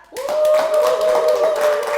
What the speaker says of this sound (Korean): 큰 박수 소리와 함성 소리 들려주시면 감사하겠습니다.